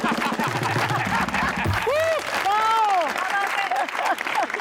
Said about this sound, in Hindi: यहाँ पे तालियां इस तरह है जैसे तालियों का भी बिल आ रहा है।